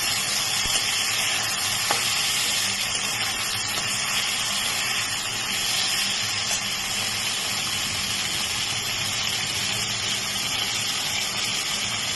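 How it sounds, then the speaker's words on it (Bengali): Potatoes and eggplant frying in a pan of hot oil make a loud, steady, continuous sizzle with faint stirring, unbroken and close by, with no voices. "আলু আর বেগুনটা ভাজা ভাজা হয়ে গেছে"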